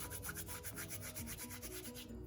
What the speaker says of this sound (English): these are just whole leaves, and I just rub them and throw them in